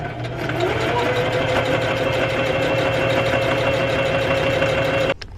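A sewing machine stitching fabric pieces of a petal-style dice bag runs in a steady, close mechanical whir for about five seconds, then stops abruptly.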